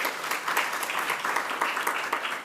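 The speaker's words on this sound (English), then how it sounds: "Another round of applause for her" Applause from an audience at a partnership summit, a dense, continuous patter of many hands clapping at moderate volume for a couple of seconds.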